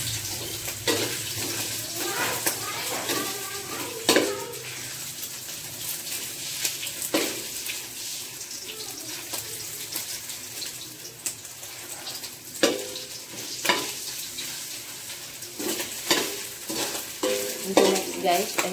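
Squid balls frying in a pan for pancit guisado with kalamares, a continuous close sizzle broken by repeated scrapes and knocks of a spatula stirring and tossing them.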